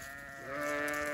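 A sheep bleats on a green, sunny spring pasture, one drawn-out wavering call that swells louder midway and holds, fairly close and clear.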